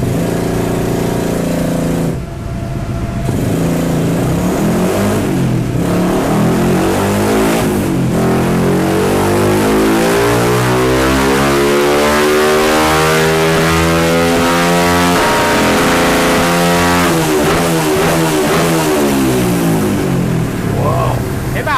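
A carbureted motorcycle fitted with an aftermarket CDI ignition box with a rev limiter revs hard and close for a long stretch, the engine note sweeping up and down in pitch, with a voice talking over it at points.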